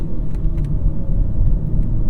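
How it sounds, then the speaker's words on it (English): A 2021 BMW M4 with a six-speed manual rolls along a track at low speed, giving a steady engine drone and road rumble heard from inside the car. "we're just going to drive this car how any dentist that owns an M4 would drive his vehicle"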